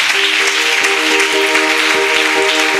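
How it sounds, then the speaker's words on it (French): A church congregation at a Sunday service applauding together, loud, dense, continuous clapping filling the room, with a faint sustained tone running beneath it. "On acclame tous les seigneurs."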